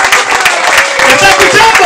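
A crowd at a religious healing service in Cuba claps loudly, and a raised voice carries over the applause throughout.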